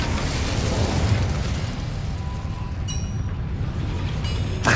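The Incendio fire spell in the video game Hogwarts Legacy, heard as a loud, steady roaring rush of flame that continues unbroken, with faint tonal chimes near the end.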